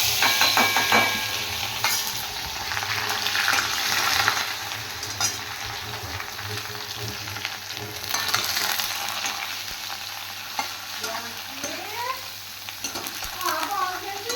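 Ingredients fry in hot oil for a pea curry, giving a constant close sizzle with occasional stirring scrapes and a faint metallic clink in a home kitchen.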